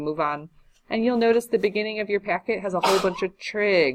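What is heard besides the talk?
sneeze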